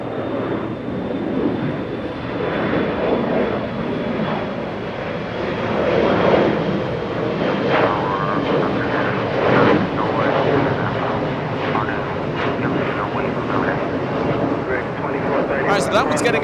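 A small SkyWest regional jet departs Los Angeles International for Las Vegas, its engines giving a steady broad roar close by from start to finish, with a voice talking over it.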